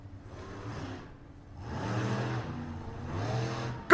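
Monster trucks racing at a No Limits Monster Trucks event in Kalispell, Montana, their big engines revving in three loud surging bursts with brief lulls between, alone with no talk.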